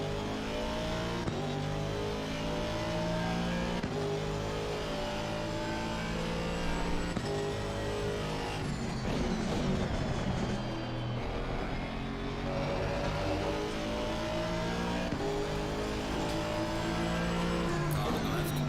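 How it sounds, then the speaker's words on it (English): Race car engine in sim racing at Imola, a loud continuous buzzing whine that climbs and drops through gear changes, with another car passing close by and a voice talking over it at times. "Car on the left."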